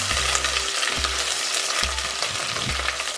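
Star anise and a cinnamon stick being stir-fried with spice paste in a pan over medium heat, a steady close crackling sizzle with four rhythmic low scraping strokes of the spatula, no talking.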